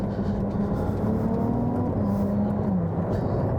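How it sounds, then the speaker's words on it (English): Ferrari 296 GTB hybrid V6 engine drones steadily from inside the car, a constant loud hum with a slight pitch change near the end and no talking. "It's a great sounding car, and that's so important."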